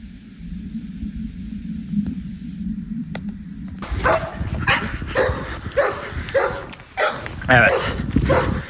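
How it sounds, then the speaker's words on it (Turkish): Three or four dogs bark outdoors. A faint hum comes first, then loud, repeated barks and yips break out midway and go on in irregular bursts close by. "Bakın bakın orada. 3-4 tane köpek var."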